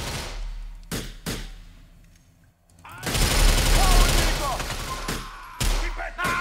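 Gunfire in the video game GTA IV: several sharp single shots, then a dense burst of rapid firing with whining ricochet tones, ending in heavier bangs, all loud and close, with a voice talking at moments.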